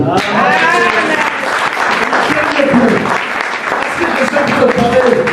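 Church congregation applauding and cheering, loud sustained clapping with excited shouts and voices mixed in throughout, dense and close.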